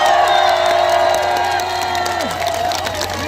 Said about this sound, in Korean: 박수 한번 세게 한번 주십시오.